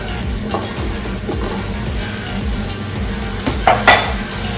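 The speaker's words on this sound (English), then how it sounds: "we're going to add our green beans and let it saute in there with them" Green beans sauteing with onions in a pan give a steady, loud sizzle, with a few scraping stirs and light utensil clinks near the end.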